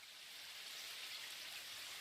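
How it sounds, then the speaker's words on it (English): Steady rain in an audio drama scene, a soft continuous hiss of falling drops with no voices over it. "It's raining."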